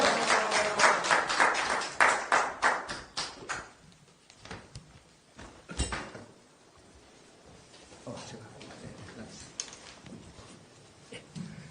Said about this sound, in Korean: 자, 우리 송용 기자님을 큰 박수로 환영하겠습니다.